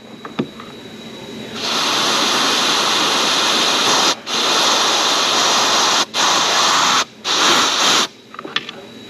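Compressed air blasting through a car's AC drain tube in loud, steady hissing bursts, broken by several brief pauses near the end, with faint clicks before it starts.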